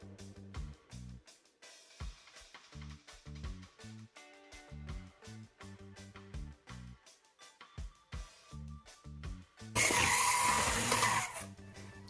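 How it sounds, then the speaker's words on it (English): A mixer whirs briefly while creaming butter and sugar for a Jamaican sorrel black fruit Christmas cake. The loud, steady burst comes near the end, after a stretch of quieter background music. "Cream this together, the butter and the sugar."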